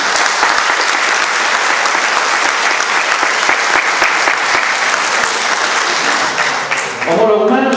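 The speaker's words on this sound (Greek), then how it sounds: "στον οποίο αξίζει ένα θερμό χειροκρότημα" Warm applause from the audience at a live-broadcast public event fills the room, steady dense clapping throughout, loud and close, with a voice starting to speak at the very end.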